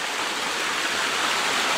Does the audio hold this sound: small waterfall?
yes